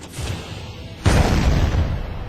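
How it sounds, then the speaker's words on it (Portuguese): A ship's cannon fires a single sudden boom at sea, breaking into a broad, rumbling blast that lingers and slowly fades, with no voices. "O segundo tiro indicava que eles tinham encontrado."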